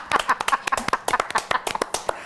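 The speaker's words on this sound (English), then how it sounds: "Clap for yourselves." Audience clapping in a television studio, a sparse group of sharp, close hand claps in an uneven rhythm, loud and distinct with no talk over it.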